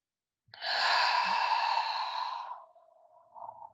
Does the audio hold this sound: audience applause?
no